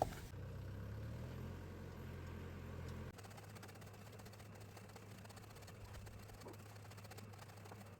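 A tractor loaded with fodder idles, giving a steady low engine drone that holds at an even level, quiet and continuous, with a slight shift in tone partway through.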